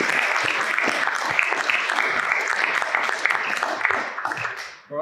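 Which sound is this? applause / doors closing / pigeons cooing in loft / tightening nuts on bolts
applause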